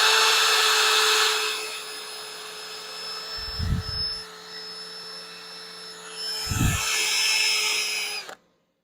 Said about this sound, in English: we'll go ahead and hit it with the drill